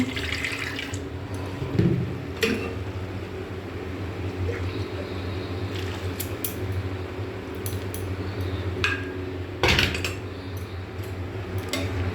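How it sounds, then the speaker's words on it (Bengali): Water is added to a mustard-oil vegetable curry in a home kitchen, a steady running pour with a few clinks of utensils, no talking. "এর মধ্যে আর একটু জল দেবো"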